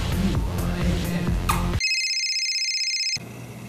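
A phone sounds a text message alert in a drinking-and-texting drama scene: a steady electronic tone rings for over a second, clear and prominent, interrupting noisy background chatter.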